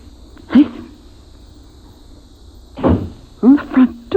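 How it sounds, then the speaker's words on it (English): A front door opens in an old-time radio drama sound effect: a creaking thump, then after a pause a louder creak and several knocking bumps, close and distinct. "The front door."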